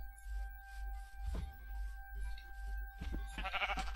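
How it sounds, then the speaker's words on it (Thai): Minecraft sheep bleating in a video game, one short bleat early and a couple more near the end, with game sounds and a steady low hum underneath. "เฮ้ยเดี๋ยวแกะอีกตัวหนึ่ง"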